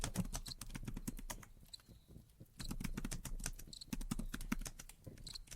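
Rapid clicking of computer keys in quick bursts with a brief pause midway, fairly close and quiet, with no talking.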